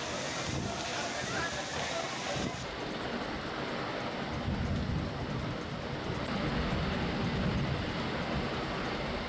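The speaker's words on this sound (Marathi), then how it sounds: "वादळी वाऱ्यासह अवकाळी पाऊस पडतोय" Stormy wind and unseasonal rain roar steadily outdoors in a constant broadband rush that swells a little partway through.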